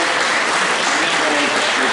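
An audience at an association assembly in Scorzè claps in a brief, dense burst of steady applause with no pauses.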